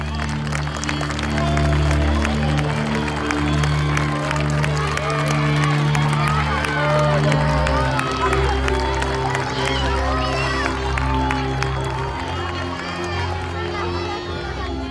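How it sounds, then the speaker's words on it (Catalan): Schoolchildren and families applaud second-grade classmates after a Sant Jordi legend performance: sustained clapping and crowd noise fill the room, with children's voices and cheering mixed in and a low hum underneath. "Un fort aplaudiment pels companys i companyes de segon que han posat la veu als diferents personatges"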